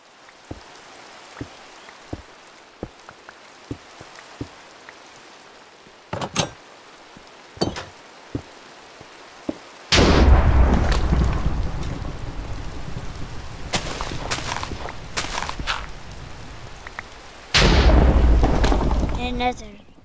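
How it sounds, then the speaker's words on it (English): Heavy rain in Minecraft pours down in steady loud bursts after a quieter stretch of scattered clicks, with rumbling thunder folded in; a voice talks over parts of it. "I don't really like thunder in this game"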